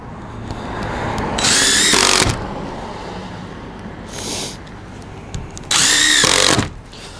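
A power drill drives exterior grade construction screws into a wooden barn door in three loud whirring bursts, two long and one short, with quieter handling sounds and background noise between them.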